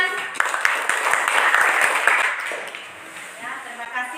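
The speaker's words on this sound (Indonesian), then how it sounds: "Oke, tepuk tangan." A classroom group claps after a student's speech, a burst of many hands that builds and then fades. Voices talk over and after the clapping.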